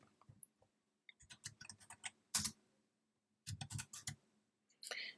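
Clicky keystrokes tapped out on a computer keyboard to enter a terminal command, coming in short irregular bursts with pauses between them, close and fairly quiet, with no talking.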